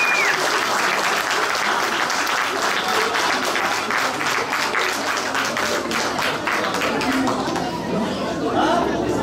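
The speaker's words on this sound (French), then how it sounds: "On peut les applaudir toutes et tous," Audience applause at a cosplay contest during the Auxerre Galactic Days convention, a dense, steady wash of clapping from a crowd that lasts throughout, with chatter and a voice speaking over it.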